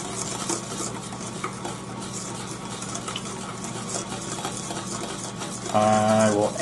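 An egg and milk custard base for vanilla bean ice cream is stirred steadily in a pot, giving a continuous soft scraping and swishing with faint utensil clinks, louder near the end.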